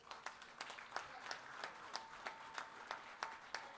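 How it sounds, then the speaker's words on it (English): Sparse, rhythmic clapping at a national tax conference, a few hands beating an even pulse of sharp claps, faint and somewhat distant. "Can we have a big round of applause,"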